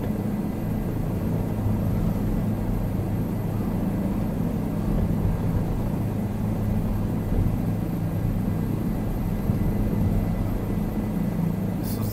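A simulated light airplane's propeller engine drones in a VR flight simulator as it takes off from a grass runway at Ann Arbor. The steady, loud low rumble holds unchanged throughout.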